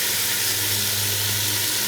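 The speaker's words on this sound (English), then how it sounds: "So we can see, we can hear the sizzle." Stew meat for Irish stew sizzles in hot oil in a pan with a steady, dense, crackling hiss that stays close and even throughout.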